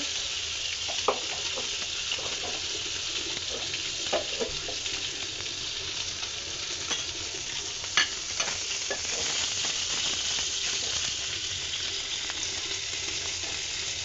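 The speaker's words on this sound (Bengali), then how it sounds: "শুকনো মরিচগুলো ভাজা হয়ে যাচ্ছে" Dried chillies fry in oil for a home Ramadan iftar meal, a steady, moderately quiet sizzling hiss with a few soft stirring clicks and scrapes throughout.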